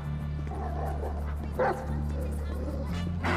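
A dog barks and yips in GTA 5 while a man chases it, a few short barks and whimpers mixed under louder speech and game background sound.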